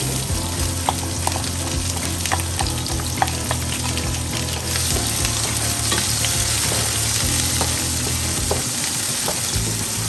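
Sliced onions and slit green chillies fry in a pan, giving a continuous close sizzle with repeated stirring scrapes and clicks of a spoon, steady and fairly loud, without any speech.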